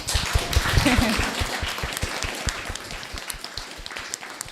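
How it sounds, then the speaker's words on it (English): Applause from an audience at an online arts community event, a moderate patter of clapping with scattered sharp claps, a voice briefly heard early on. "Can we give them another clap for being amazing?"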